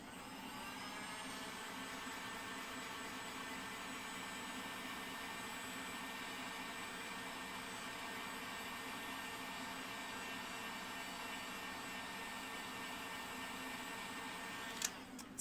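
A steady, loud whirring blower runs without a break, a dryer aimed at wet paint on homemade spring overalls, alone and close with no voices over it.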